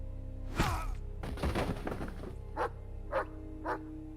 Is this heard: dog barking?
yes